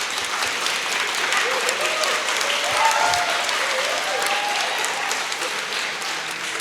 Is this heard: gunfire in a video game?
no